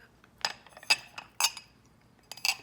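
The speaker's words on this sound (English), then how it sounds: "I'm just going to rotate the glass through the salt" A rocks glass rim, moistened with lime, is turned through a bowl of salt, producing several bright glassy clinks and scrapes in separate bursts against a quiet background.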